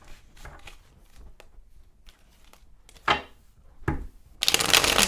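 Tarot-style cards shuffled by hand, several riffling bursts with soft taps between, the last shuffle loudest and longest, close and alone without talk.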